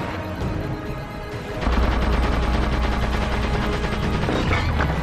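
Rapid gunfire from sniper rifles and Covenant carbines in the Halo 4 co-op campaign, a dense burst of repeated shots that starts abruptly and keeps going loud and close, with no talk.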